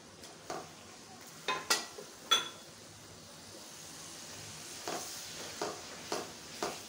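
Potatoes and spices go into a pot of mutton yakhni biryani, with soft sizzling under a handful of sharp spoon clinks and stirring knocks against the pot, scattered and fairly quiet.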